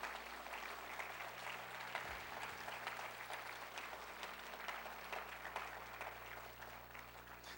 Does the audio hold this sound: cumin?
no